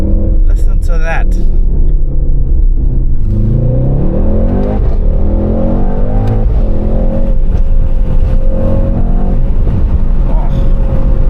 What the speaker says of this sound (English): It has a more powerful variant of the V8 bi-turbo engine.